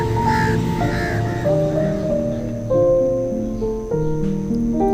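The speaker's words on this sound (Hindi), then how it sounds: "ये सारे कौवे और इतने निडर किस्म के कौवे थे" Several crows caw repeatedly in a park in Karachi, loud harsh calls overlapping in quick succession and close by, with no other sounds competing.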